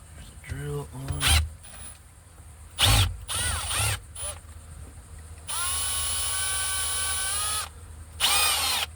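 A power drill whirs in several short bursts and then one long steady run, close and loud, during work on replacing the clock spring in a 2004 Toyota Sequoia.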